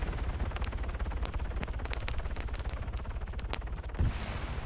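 Rapid, dense gunfire crackles continuously in Arma 3, with sharp repeated shots over a low rumble and one heavier blast near the end, and no talking.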